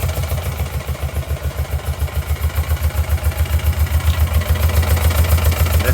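A rough-running engine idles loudly and close, with a steady pulsing chug and mechanical clatter on top.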